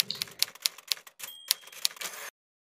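Rapid typewriter keystrokes clatter close and crisp in an uneven rhythm, about a dozen sharp clicks and strikes over two seconds, then stop abruptly into silence.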